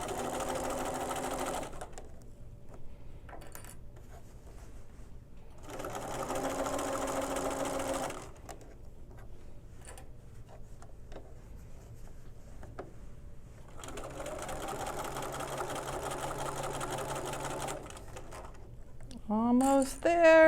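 A sewing machine stitches a quilted jacket in three long bursts of steady whirring, with quiet pauses between runs and a short rustle of fabric handling near the end.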